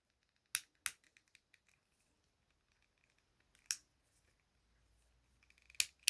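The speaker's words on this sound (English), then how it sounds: "He's got ratchet joints in the legs." Ratchet leg joints of a Zack Fair Play Arts Kai action figure clicking as the legs are posed: sharp close clicks in a quick pair, then a lone click, then another after a pause, with near silence between.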